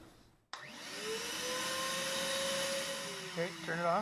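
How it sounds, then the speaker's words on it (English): A shop vacuum switches on with a sudden whoosh and roars steadily up close, its pitch wavering slightly near the end. "turn the vacuum on."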